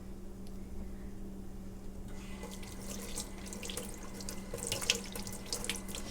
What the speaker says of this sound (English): I always rinse my hand whenever hydrogen peroxide go into it